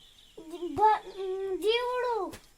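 A parrot calls close by in a forest with two long, drawn-out squawking cries that waver in pitch, separated by a brief click.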